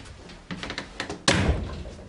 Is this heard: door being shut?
yes